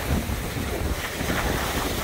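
Strong wind on rocky Lake Erie shore buffets and roars across the microphone in a constant, rumbling rush with no voices.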